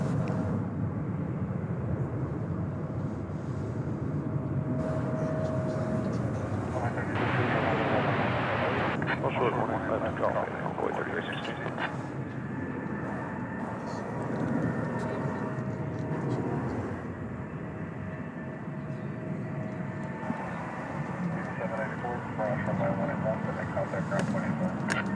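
An airplane at DFW Airport at night gives a steady, broad engine roar that holds throughout under continuous nearby talking.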